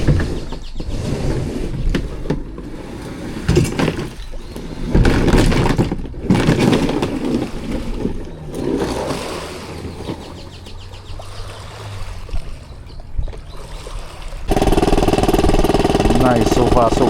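Small pull-start outboard boat engine catching and running after a few pulls, a rough motor drone mixed with people talking, then settling into a steady, louder running rumble near the end.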